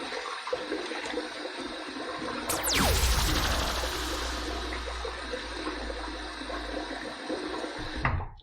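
Running water splashes steadily and close up while a head is wetted before a shave with a Rockwell razor, following a brief sharp swish, then settles into a continuous rush that stops near the end.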